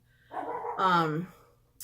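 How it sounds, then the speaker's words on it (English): Household dogs bark indoors as someone walks into the house. One drawn-out, yelping bark comes from close by, bracketed by quieter moments and a brief noise at the end. "You're gonna hear my dogs bark because my husband just walked in."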